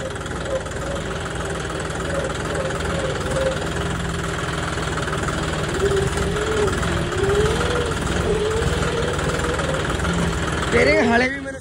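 A John Deere 5210 4WD tractor engine runs steadily throughout with a continuous mid-pitched drone and vibration, loud and close, with brief changes in tone near the end.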